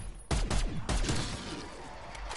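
Gunfire from a DMR rifle in a zombie shooter game, a quick burst of close, loud shots followed by a decaying rumble with faint game noise.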